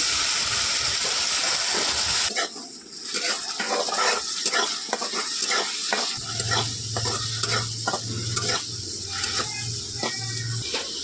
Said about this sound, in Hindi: तो प्याज भून चुका है दोस्तों, और ये कूटा हुआ लहसुन है तो डाल देती हूँ इसको।